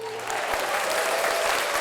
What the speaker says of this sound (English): here's a round of applause for you